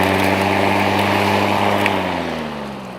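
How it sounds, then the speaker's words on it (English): A Bosch GRA 18V2-46 BITURBO brushless cordless professional lawnmower runs with a steady, loud motor hum and blade whir, holding even for about two seconds before easing slightly lower near the end. "So obviously this is our professional lawnmower."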